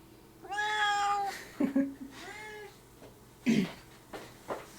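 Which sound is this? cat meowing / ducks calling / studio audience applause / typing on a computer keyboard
cat meowing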